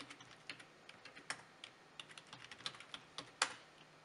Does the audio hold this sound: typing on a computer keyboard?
yes